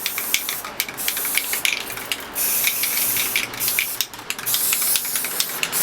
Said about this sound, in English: I'll spray paint the other side